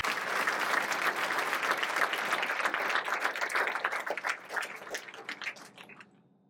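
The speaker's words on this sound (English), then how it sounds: "please welcome Simon Mifsud on stage with a round of applause" Audience at a startup cohort showcase applauds to welcome a presenter on stage, a loud sustained round of many clapping hands that thins out and fades to silence near the end.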